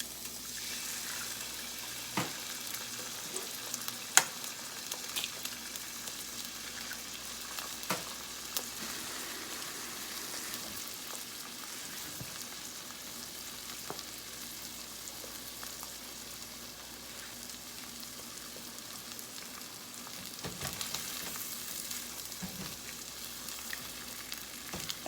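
Eggs cooking in butter in a pan alongside breakfast hashbrowns, a quiet continuous sizzle with occasional sharp clicks and small bumps, no talk.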